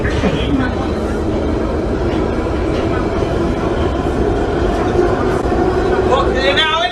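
A train rolls along with a steady, continuous rumble and rattle throughout, and voices are heard over the noise.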